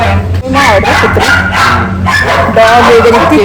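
Dogs in a mall pet shop yip and whimper in short repeated bursts, close and loud, mixed with people talking nearby.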